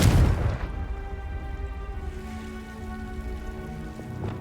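Confringo fire spell cast in the video game Hogwarts Legacy: a sharp, loud blast at the start that decays into a rumbling, crackling tail with a sustained tone, fading over a few seconds.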